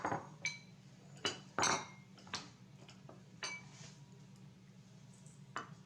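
Oatmeal cookie ingredients dumped into a mixing bowl by hand, giving a few scattered clinks and light knocks of utensils against the bowl over a steady low hum, with no talking.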